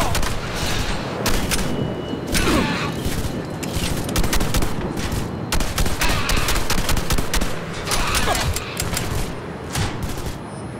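Rapid, close bursts of gunfire crackle in the video game Red Faction: Armageddon, loud, dense volleys in quick succession for the whole stretch, with no talk.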